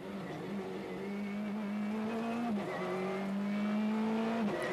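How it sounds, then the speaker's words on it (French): A Peugeot 306 Maxi rally car with a 2-litre naturally aspirated engine screams at high revs on a rally stage, holding a strong whining tone with quick gear-change dips, fairly distant and unbroken. "ça fait certainement partie des plus beaux bruits des voitures de rallye qu'on ait l'occasion d'entendre"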